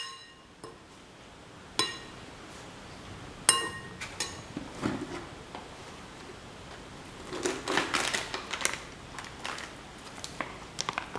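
A spoon clinks and scrapes in a pot while fennel powder is mixed into a cottage cheese cashew stew, with scattered sharp taps and a busier burst of scraping toward the end.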